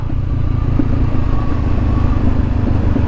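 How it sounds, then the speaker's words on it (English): Honda CBR500 motorcycle from 2020 with a loud aftermarket exhaust, riding along a village road; steady close engine drone throughout with faint rumbling pops. "Sit there with my loud exhaust popping right the way through it."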